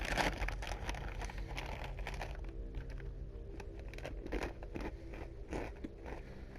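Potato chips crunched and chewed as a snack, a steady run of close, crisp bites and crackles alone with no talk.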